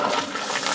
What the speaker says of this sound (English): You get our toilet flush of the day there